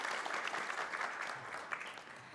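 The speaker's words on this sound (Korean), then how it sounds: "큰 박수 부탁드립니다" Audience at a financial forum panel discussion applauding, a steady wash of many hands clapping at moderate volume from a room full of people.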